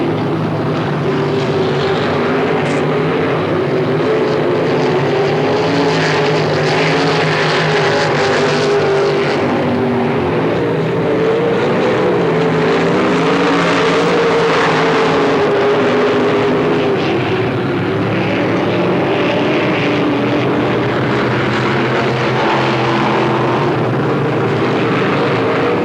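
Sprint race car engines roar around Knoxville Raceway, one of them smoking, a loud continuous droning and wavering engine noise with rising and falling pitch as the cars circle, no talk heard.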